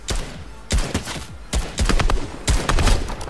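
Gunfire in Fortnite: loud, close bursts of shots in several clustered volleys, sharp cracks repeating in quick rapid-fire runs with brief gaps between them.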